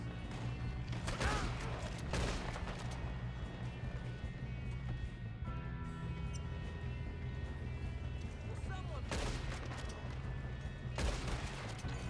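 Gunshots in a Red Dead Western shootout, scattered cracks and a few louder bursts amid galloping horses and ambient noise, with characters talking throughout.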